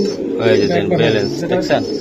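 Pigeons coo softly at a pigeon market, low murmuring calls running continuously beneath nearby people talking.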